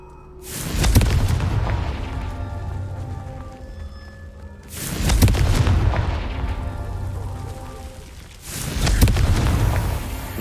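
Three heavy blasting-spell explosions from the Hogwarts Legacy video game, each a deep booming burst with a rumbling tail, spaced a few seconds apart and loud, with no talk.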